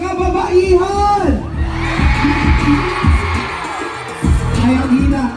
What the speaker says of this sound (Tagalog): Sumigaw lahat ng mga kababaihan!